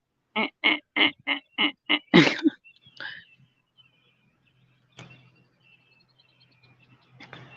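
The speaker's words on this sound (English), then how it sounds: "Did y'all hear that bird? I think it's a bird." An outdoor bird calls in a quick series of about seven loud, evenly spaced chirps, then a sharper squawk, followed by scattered faint calls and a quiet background.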